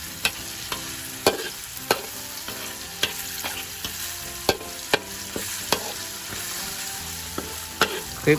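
Shallots, garlic, chili and shrimp paste stir-fry in a pan with a steady sizzle, punctuated by repeated sharp metallic spatula strikes in an irregular rhythm, close and fairly loud.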